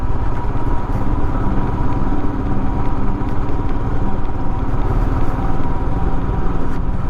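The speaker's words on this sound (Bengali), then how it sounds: "বাইকের এই ধুক ধুক ধুক ধুক ধুক ধুক করে চলে যাওয়া" A motorcycle runs along an open road across empty fields on a cold winter evening, its engine a steady, close, continuous rumble with no voices over it.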